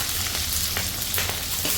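Onions sizzling in hot oil in a pan with dried chillies, a steady broadband frying crackle with small pops throughout, no voices.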